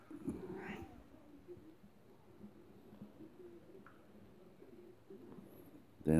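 Day-old newborn kittens and their mother cat meowing softly in a nest, thin high mews repeating irregularly at close range, faint and low-level with a louder burst at the very end.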